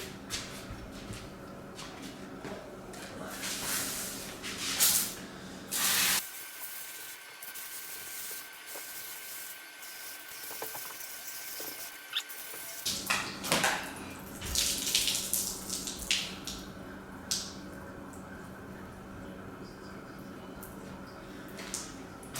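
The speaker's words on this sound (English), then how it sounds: "I'm gonna rinse it off with just a hose today" Garden hose spraying water to rinse a skull, a steady rushing spray broken by a quiet gap of several seconds, then bursts of splashing water resume.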